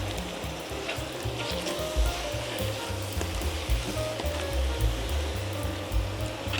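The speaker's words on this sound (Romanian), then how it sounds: "Și amestecăm." A paprika and mushroom mixture sizzles in a pan while being stirred, giving a steady close frying hiss with a rhythmic low scraping of the spoon underneath.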